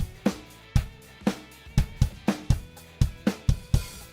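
A programmed drum kit from Superior Drummer software plays a steady groove: punchy kick and snare hits roughly every half second, getting busier with quicker hits toward the end, with bright cymbal wash over the top.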